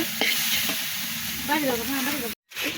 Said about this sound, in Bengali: কারণ গোস্ত যত কষাবো ততই সুন্দর নরম তুলতুলে এবং মোলায়েম হবে